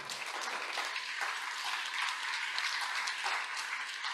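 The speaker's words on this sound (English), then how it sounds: "So please give them a round of applause." Audience applause for panelists at an evening union co-op solidarity circle meeting, a steady wash of many hands clapping throughout, moderately loud and continuous with no talk over it.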